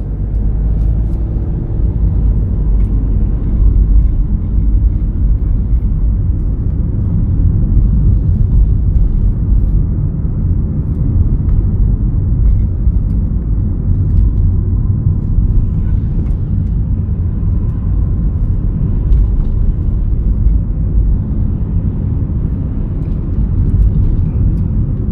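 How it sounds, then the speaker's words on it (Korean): A car pulls away and drives on a Dobong licence test course, a steady low rumble of engine and road noise heard from inside the cabin, unbroken and fairly loud throughout. "자, 기어 놓고 출발."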